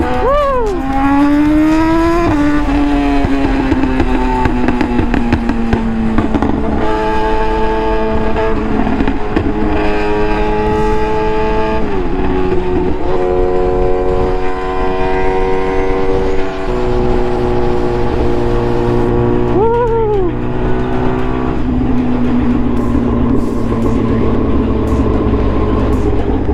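A loud, tuned Suzuki GSX-R1000 motorcycle revs on a city ride and blips its throttle on each downshift through the gears. The engine pitch rises and falls several times in close, continuous engine roar.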